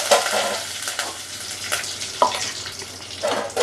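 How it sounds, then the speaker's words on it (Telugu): Chana dal, urad dal and curry leaves sizzle in hot oil in a pan as a steady crackling fry, with a few sharper pops and stirring scrapes along the way. "శనగపప్పు వేస్తున్నాను, మినపప్పు వేస్తున్నాను, కరివేపాకు వేస్తున్నానండి"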